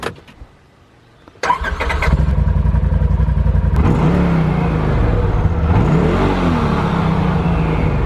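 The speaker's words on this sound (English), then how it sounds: "I'll show you what the 2020 Polaris Razor Pro XP sounds like stock." A stock 2020 Polaris RZR Pro XP side-by-side engine cranks and starts after a short quiet moment, then idles loud and close before being revved, its pitch rising and falling.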